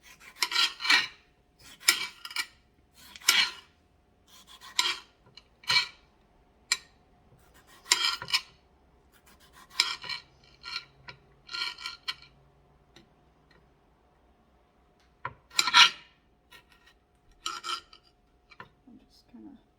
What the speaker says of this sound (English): So I'm just going to quickly slice these tomatoes, and I'm just going to cut them into little chunks.